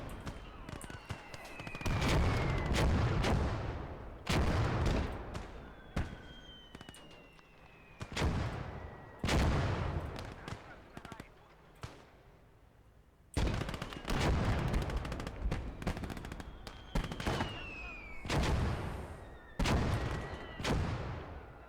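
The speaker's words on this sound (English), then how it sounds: "Oh, the mortars are destroying us again." Mortar fire in the WWII strategy game Call to Arms: Gates of Hell, repeated heavy booms and crashing impacts with whistling incoming shells and scattered gunfire, coming in clustered waves.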